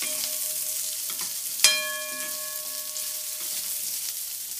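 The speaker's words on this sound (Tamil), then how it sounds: "வெங்காயத்தை கொஞ்சம் நேரம் வதங்க விடணும்" Onions softening in oil for tomato sambar after a tempering of lentils, a steady bright sizzle throughout with one sharp metallic ring of a utensil striking the vessel, no talk.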